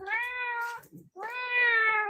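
A cat meows twice, close and loud: a drawn-out cry, a brief pause with small rustles, then a second longer, rising meow.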